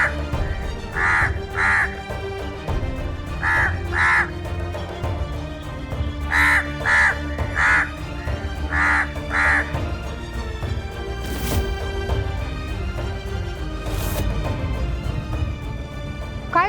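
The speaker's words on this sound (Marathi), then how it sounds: "घरावर कावळा बसला होता, लई आरडत होता." A crow perched on a house roof caws repeatedly, its harsh calls mostly in quick pairs spread across the stretch, loud and near over a low, busy background.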